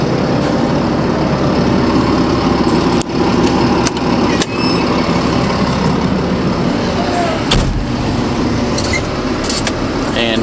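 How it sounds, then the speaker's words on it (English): A haul truck's engine runs steadily and loudly up close after being repaired, a continuous rough drone with occasional knocks and rattles, no talk over it. "Truck sounds better."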